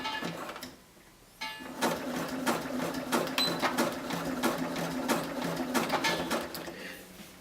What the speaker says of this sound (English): we're gonna zigzag it in place